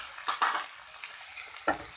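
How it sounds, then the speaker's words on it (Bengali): Spices and onions stirred in a pan with a spoon, a few soft scraping strokes over a faint sizzle, close and quiet. "এবার সবগুলি মশলা পেঁয়াজের সাথে আর অন্যান্য মশলার সাথে ভালো করে নাড়িয়ে নেব।"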